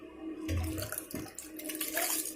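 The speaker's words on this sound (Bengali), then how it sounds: "এখন চাল ধুয়ে নিচ্ছি।" Water sloshes and splashes as rice is rinsed by hand in a pot, with brief swirling bursts and a short low thump, moderately close and without speech.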